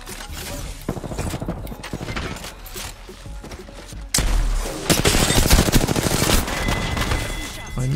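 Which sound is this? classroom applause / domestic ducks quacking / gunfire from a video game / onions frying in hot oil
gunfire from a video game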